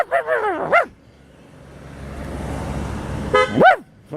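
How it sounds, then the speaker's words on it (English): A neighbour's dog barks from behind a fence, two short bursts of yelping barks a few seconds apart, fairly close, with a low traffic rumble filling the gap between them. "the people behind that fence have a noisy dog. I don't see it anymore, but I hear it."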